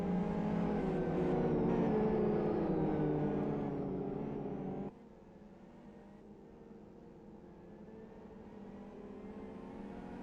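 Race cars weave on track to warm their tyres in the Live for Speed racing game, a steady, dense engine drone that drops sharply in level partway through and continues as a lower whirring hum.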